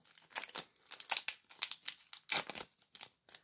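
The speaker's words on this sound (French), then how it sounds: "le booster est plus compliqué à ouvrir que les autres." A sealed Digimon booster pack wrapper being torn and opened, a series of sharp crinkling, ripping bursts in an irregular rhythm, close and clear with quiet gaps between.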